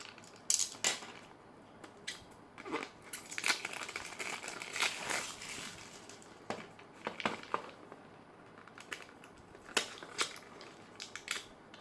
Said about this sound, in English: now let's unbox this Honor Choice pencil